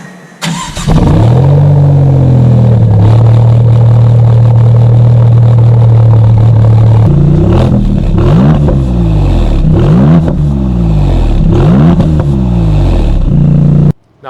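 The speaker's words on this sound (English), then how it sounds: "We gotta hear this twin turbo Nettuno engine sing." A 2022 Maserati MC20's twin-turbo Nettuno engine starts, settles into a loud idle, then revs sharply several times in quick succession, close and powerful.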